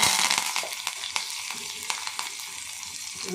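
Cumin, fenugreek, dried red chili, garlic cloves and curry leaves sizzle loudly in hot oil, a steady close crackle with occasional sharper pops, no talking over it.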